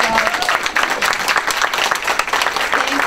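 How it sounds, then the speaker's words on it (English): A roomful of people at a county GOP breakfast claps in steady, close, fairly loud applause with audible individual hand claps, and no speech over it. "Let's give him a big round of applause."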